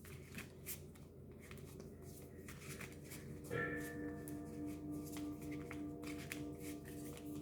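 A deck of bird-themed tarot cards is shuffled by hand, giving a soft, steady papery riffle that runs quietly and continuously at close range with no talking.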